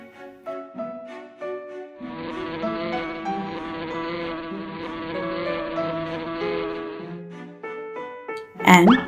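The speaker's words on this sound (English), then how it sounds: "But this only brought out the whole swarm of bees." A swarm of bees buzzing in a CGI animated short, a dense, steady hum swelling in the middle amid tonal, musical notes before ending on a brief loud burst.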